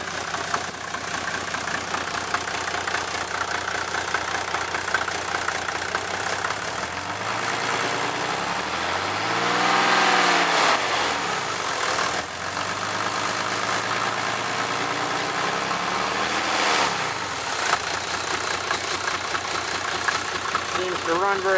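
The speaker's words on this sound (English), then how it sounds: "Seems to run very well on cooking oil." A Mercedes diesel engine running on cooking oil idles with a rough, knocking rumble, rising in a couple of revs before settling back to idle, with a voice heard at times.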